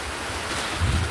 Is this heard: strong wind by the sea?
yes